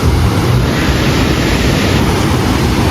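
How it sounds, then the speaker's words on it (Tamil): Strong sea waves pound the shore at Varkala Beach in Kerala, a loud, continuous broadband roar of surf with wind buffeting the microphone and no voices. "இப்போ பாருங்கள் கடல் அலைகள் எவ்வளோ ஃபோர்ஸாக வருதுன்னு."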